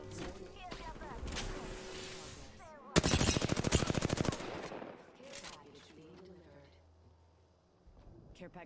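A loud, rapid automatic burst of gunfire from the video game Apex Legends, one sustained volley amid quieter game sounds, with players talking before and after.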